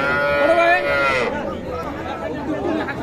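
Calves low at a cattle market, with one loud, drawn-out moo up close amid a background of murmuring people.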